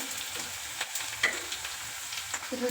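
Onions fry in a pan with a steady crackling sizzle, punctuated by a few light scraping clicks of stirring, with no voices.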